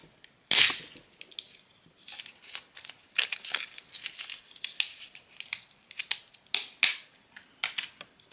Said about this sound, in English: I'm just going to go ahead and cut the container and break it out that way.